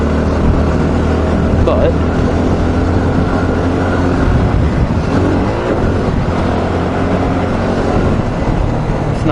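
Steady engine drone and rushing wind while riding a new motorbike, loud and continuous throughout, with a brief spoken word over it.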